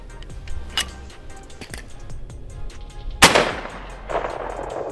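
Shotgun fired outdoors while squirrel hunting, with a few light clicks and handling sounds before one loud, sharp blast that rings out and fades, followed by more rustling.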